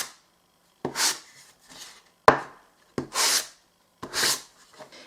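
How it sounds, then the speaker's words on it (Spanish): Used sandpaper is rubbed lightly over a wooden box in four or five short, soft, raspy strokes, each separated by brief pauses. "que sea una lija que ya tengáis utilizada, y vamos a pasarla muy suave"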